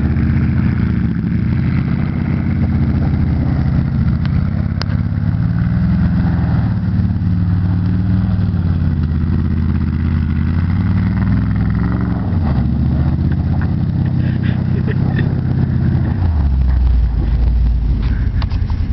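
Car engine revving continuously while the car drifts in circles at a drift event, a loud, steady droning roar with rising and falling pitch, close to the recorder and heavily saturated throughout.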